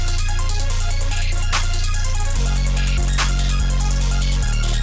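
An experimental music beat loop with steady pulsing bass and layered repeating synth tones, dense and loud throughout, shifting pattern midway.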